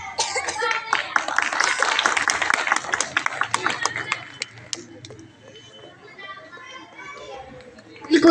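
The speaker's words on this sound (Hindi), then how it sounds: "बिल्कुल जोरदार तालियां।" Vigorous clapping from a seated audience at a 26 January 2024 ceremony, a dense burst of claps that thins out over several seconds into murmuring voices and scattered sounds.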